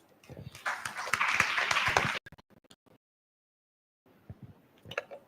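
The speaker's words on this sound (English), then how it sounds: "Next round of applause." Applause from an audience at a Ministry of Health conference session, a burst of clapping for about two seconds that stops abruptly, followed by a brief silence and then faint scattered sounds.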